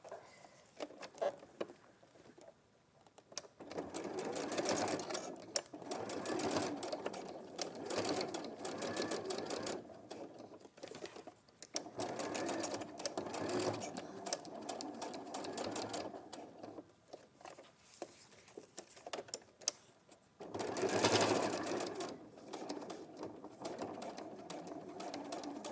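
A domestic sewing machine top stitching fabric: long runs of fast, steady mechanical whirring and tapping, broken by short pauses, with occasional faint voices in the background.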